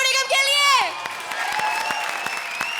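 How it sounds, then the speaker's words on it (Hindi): A comedy show audience applauds and cheers for Sonu Nigam, a crowd clapping steadily after a loud sustained whooping cheer at the start. "लेडीज एंड जेंटलमैन, एक बार जोरदार तालियां सोनू निगम के लिए."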